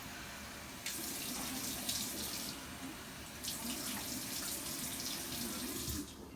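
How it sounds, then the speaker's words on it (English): Tap water runs into a sink while someone washes their face, splashing in two longer bursts with a brief pause between, fairly close and with no speech over it. "I'm going to wash my face"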